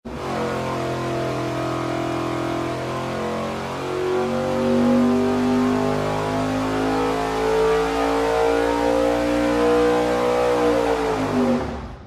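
A V8 engine fitted with a 1450 CFM carburetor revs on a dyno, a loud continuous roar with rising and falling harmonic pitch that climbs steadily, then drops off sharply at the end.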